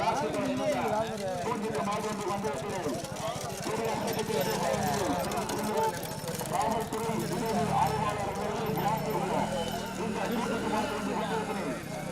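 Bulls race in a rural bullock cart event in Tamil Nadu. Their hooves make a rapid, rhythmic clatter that runs the whole time under a busy crowd and loud, excited talking.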